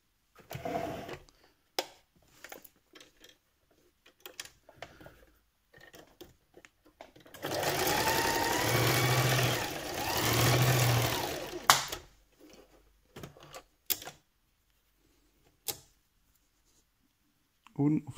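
A sewing machine runs in two bursts, stitching together the two sides of a fabric My Little Pony hoof; each run is steady and fairly loud, with quieter handling and occasional speech before and after.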